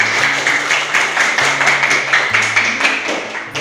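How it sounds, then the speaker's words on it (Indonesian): Classroom audience applause, a steady dense patter of clapping hands that holds throughout, close and fairly loud with a low background hum beneath. "Tepuk tangan semuanya."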